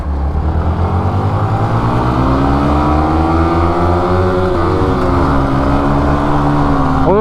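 A motorcycle engine drones steadily and loudly while riding a dusty mountain road between Pangong Lake and Hanle in Ladakh, the bike heavily loaded with luggage. The pitch rises and dips slightly as the throttle shifts.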